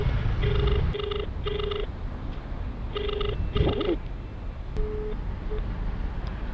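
A phone rings out while calling a delivery customer. Two short burst pairs of the ringback tone sound, then a pause, then two more, then a single brief beep, fairly faint over a low background hum.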